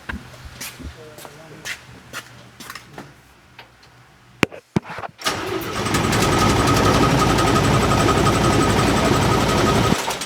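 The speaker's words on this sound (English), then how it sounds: "Crank it over again." A 1949 Chevy engine cranks over after a stretch of clicks and talk, settling into a loud, steady churning drone that runs through the last half of the clip.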